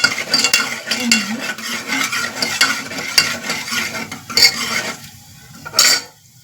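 Chopped cashews frying in a pan for tomato pulao, with a loud close crackle, repeated scraping strokes and metallic utensil clinks, then the sound thins out near the end.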